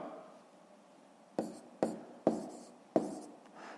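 A pen writes numbers on paper at close range: four quiet, crisp scratching strokes in an uneven rhythm after a stretch of soft background hiss.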